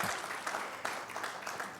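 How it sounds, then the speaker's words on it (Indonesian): Congregation clapping during a Sunday church service, a dense wash of many hands applauding steadily throughout, moderately distant and even in level, with no speech over it. "Tepuk tangan bagi Tuhan Yesus."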